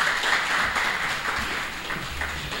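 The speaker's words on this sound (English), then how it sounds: "So let us give a round of applause to encourage him." An audience applauds at the official relaunch event of the SDN brand, a steady, even wash of clapping that holds throughout at a moderate level.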